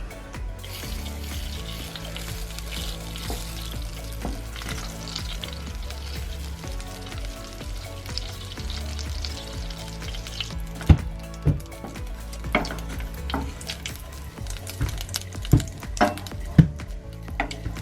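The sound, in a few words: butter melting and sizzling in a pan on the stove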